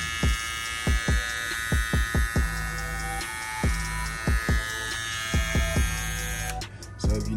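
A Babyliss LoPro FX hair trimmer runs with a steady high-pitched electric buzz, close and loud, broken by a series of rhythmic low thumps and clicks as it is handled.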